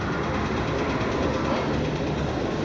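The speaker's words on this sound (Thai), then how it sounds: "มีรถไฟ" A train in Sri Lanka rumbles past nearby, a dense, loud roar of wheels and rail noise with faint rhythmic clatter, continuous throughout.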